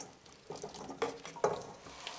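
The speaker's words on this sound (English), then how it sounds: "Add the carrots and some chopped onion and stir through the oils" Carrots and chopped onion stirred in oil in a pan, a soft, faint sizzle broken by a few scraping pushes of the spoon, close by and without talk.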